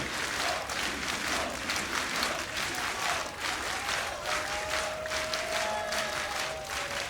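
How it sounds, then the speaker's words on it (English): A home crowd at the IEM 2015 Katowice esports quarterfinal, Virtus.pro against Keyd Stars on de_overpass, rises in sustained applause and cheering, a dense continuous roar of clapping that fills the arena steadily throughout. "They have risen to their feet to roar Virtus.pro to overtime"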